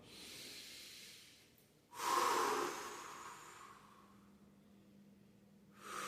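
Slow, deep breaths are released through the mouth while relaxing the body on a yoga roller: a soft airy exhale, then a louder, longer one that tapers off, and another beginning at the end, with no speech.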